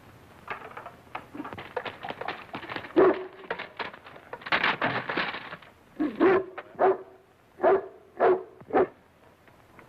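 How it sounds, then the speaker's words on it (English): A dog in a car gives a series of yips and short barks mixed with whimpers, close and fairly loud, ending in several spaced barks. "What's this? It's a dog."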